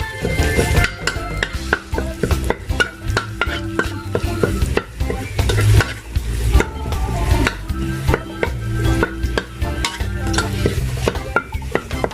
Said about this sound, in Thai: ใส่พริกแกงลงไปผัดก่อนนะ